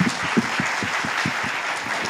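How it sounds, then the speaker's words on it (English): Audience applause at a panel forum, a steady round of clapping from a crowd with rapid individual claps audible throughout, sustained evenly for the short duration without speech. "Let's give them a big round of applause."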